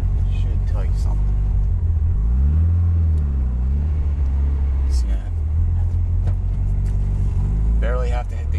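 A Mitsubishi Evo 8 or 9 with a manual clutch, stock ECU tuned on speed density, pulls away from a stop with a rising engine rumble heard from inside the car while someone talks.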